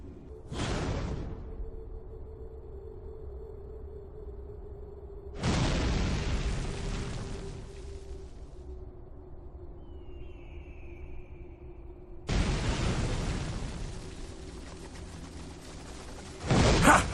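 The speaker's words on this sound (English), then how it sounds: "My cannons will turn these walls to rubble, Stefan." Cannons from the game Warhammer: Mark of Chaos blast castle walls in three heavy booming shots spaced several seconds apart, each a loud broadband impact over a steady low rumble, the last one followed by another close blast.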